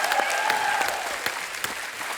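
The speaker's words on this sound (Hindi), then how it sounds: "जोरदार तालियां हो जाएं" Studio audience at a Hindi comedy talk show bursts into loud, sustained applause with scattered whoops, continuous clapping throughout with no talking over it.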